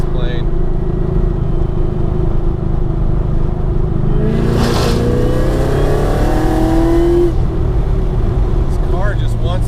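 A supercharged Whipple-equipped car engine drones loudly under steady cabin noise, then its tone climbs as the exhaust revs during acceleration. Someone talks over the engine.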